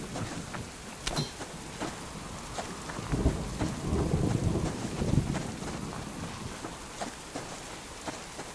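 Steady rain falls outdoors in the wilderness, a dense, even hiss of drops on surfaces, with a low rumble of distant thunder swelling in the middle and no talking.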